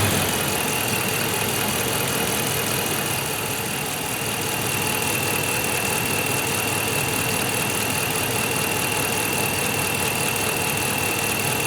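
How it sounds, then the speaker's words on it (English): Steady, loud idle of a 2010-19 Dodge Ram 5.7L Hemi V8 warming up after a thermostat replacement and coolant fill, a constant even hum with a faint mechanical tick and no talking. "And as the engine gets hotter, you're going to see this bubble go up."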